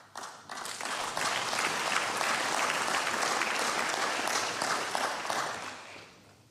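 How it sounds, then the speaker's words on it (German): Loud, sustained applause fills the Saxon state parliament after a Day of German Unity speech, a dense crowd clapping steadily for several seconds before fading at the end. "Applaus"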